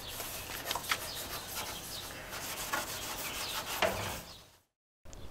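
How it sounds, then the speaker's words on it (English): Repeated rough rubbing strokes of sanding against a school bus body, close and steady, with brief louder scrapes before cutting to silence and resuming. "has been sanding the bus for numerous days now"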